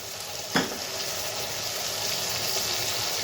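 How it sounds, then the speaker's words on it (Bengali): Onion paste hitting hot oil in a pan, a sharp spatula knock followed by steady close sizzling frying throughout, no voices, while cooking katla fish kalia. "তো এখানে দিয়ে দিব পেঁয়াজ বাটা"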